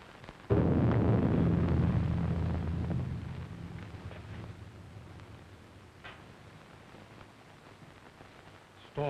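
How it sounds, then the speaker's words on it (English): A loud thunder-like boom rolls in and slowly fades over several seconds during a storm, with wind noise and another burst starting at the very end. "Storm is increasing."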